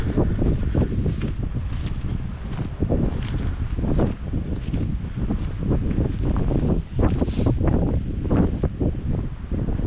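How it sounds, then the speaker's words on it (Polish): Strong wind buffeting the microphone in a steady, heavy roar with gusty swells throughout, no clear voices, on Winna Góra hill near Piekary Śląskie, Poland. "dzisiaj silny wiatr myślę, że będzie słychać"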